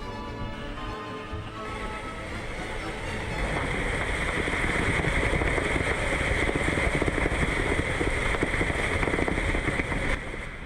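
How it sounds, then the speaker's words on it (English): Strong wind roars steadily across a sailing yacht, on the beam and gusting to 50 knots, rushing and buffeting the microphone, with water noise underneath, growing louder partway through. "The wind is on the beam and gusting occasionally to 50 knots."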